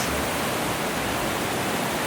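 Water trickling from tree roots into a tumultuous river current at Horse Cove Campground makes a continuous, hissing roar of flowing water, steady in level and heard alone.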